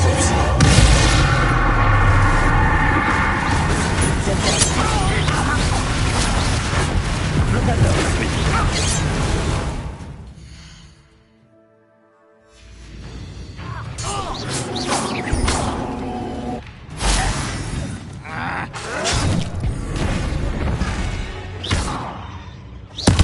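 Bombarda spell blasts go off in Hogwarts Legacy during a duel, loud dense booms and crashes filling most of the clip, with a brief near-silent gap midway before further impacts and rumbles; voices speak amid the noise.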